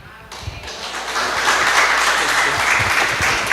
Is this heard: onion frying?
no